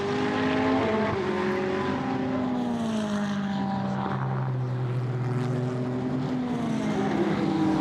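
A Honda GT race car is driven hard around the Misano circuit during a GT sports club qualifying session, its engine droning loud and continuous as the pitch climbs and falls through gear changes, with no pause.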